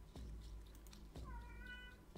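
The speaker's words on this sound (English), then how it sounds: "Constant meowing." A cat meows once in a rising, drawn-out call close by, over a steady low background rumble with a few soft thuds.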